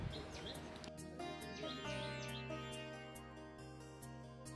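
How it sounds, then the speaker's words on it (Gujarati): Sparrows chirp repeatedly in short bright tweets over a steady tonal hum, with no talking, at a temple in Kungher, Gujarat; the calls come from nearby at moderate loudness. "તમને ચકલીઓના અવાજ પણ સંભળાઈ રહ્યા હશે"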